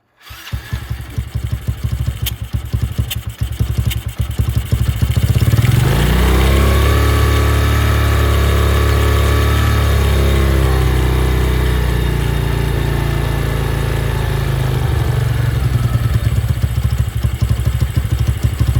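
A Venom X22 125cc motorcycle engine fitted with a Nibbi race carburetor ticks and sputters, then rises and settles into a loud, steady idle close by.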